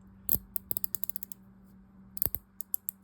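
Drag clicker on a Johnson Sabra 545 fishing reel under repair, giving quick rows of crisp ticking clicks, near and fairly quiet, with a short pause between two runs.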